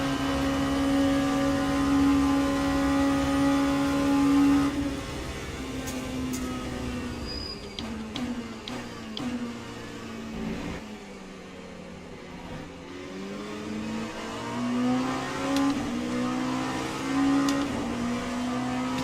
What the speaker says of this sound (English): We also have a hypercar behind us. It's a Ferrari.